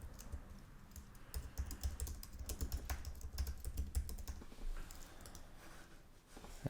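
Steady, fairly quiet computer keyboard typing runs for several seconds in a rapid, continuous rhythm of soft key clicks while a title is entered in Figma, with no one speaking.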